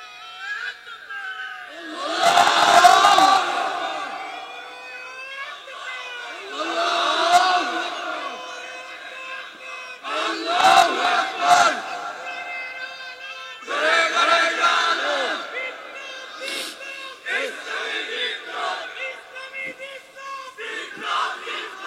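A large crowd at a Bangla Islamic waz gathering loudly chants the Nara-e-Takbir slogan in repeated call-and-response bursts, about five swelling shouts each lasting a couple of seconds, echoing in a big open space.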